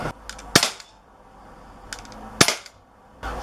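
Umarex Walther PPQ .177 CO2 pellet pistol firing two sharp, close shots about two seconds apart, each a crisp crack with a short tail, then a third report starting at the end.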